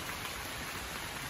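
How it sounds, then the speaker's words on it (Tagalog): Rain falls in a forest as a faint, even, continuous hiss, steady and diffuse throughout the brief stretch, with no voices. "Umuulan na."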